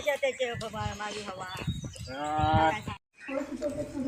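Bullocks on a Konkan rice farm moo in long, drawn-out lowing calls, fairly close, with a brief pause before another call begins.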